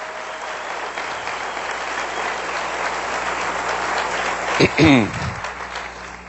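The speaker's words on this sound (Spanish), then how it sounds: "Denle un aplauso bien fuerte al Rey bendito" A church congregation applauds loudly and continuously in a steady wash of clapping, with a short burst of voices or shouts rising over it near the end.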